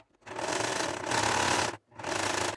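Sewing machine stitching a half-foot seam through fabric at medium stitch width and length 3, running in two loud sustained bursts with a brief stop between them, no voices.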